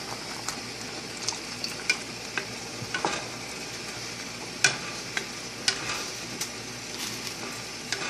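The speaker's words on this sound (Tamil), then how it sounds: "இப்போ லைட்டாக இன்னும் கொஞ்சம் ஒரு 1/4 கப்பாக வாட்டர் ஆட் பண்ணி இதில் மிக்ஸ் பண்ண போகிறேன்" A spoon scrapes and stirs a thin gram-flour and water Bombay chutney in a pan, giving soft irregular scraping knocks and a few louder clinks over a steady low bubbling sizzle, close and alone with no voices.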